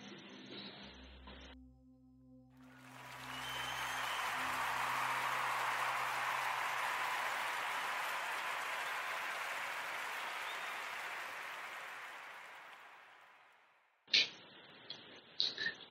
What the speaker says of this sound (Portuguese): eu quero pedir a toda a gente uma salva de palmas, por favor